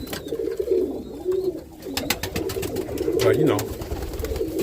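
Roller pigeons coo in a loft, soft low warbling calls repeating under a man's speech close by.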